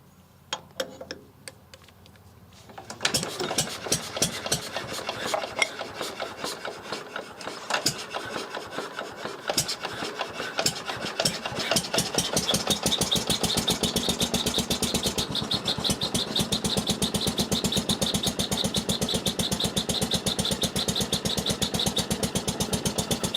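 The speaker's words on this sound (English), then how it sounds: "with one swing of this handle this should turn over." Locomotive engine hand-cranked with a swing of the handle: quiet fumbling, then rapid clattering turns that catch and settle into a steady, loud, fast-chugging idle running for about twenty seconds.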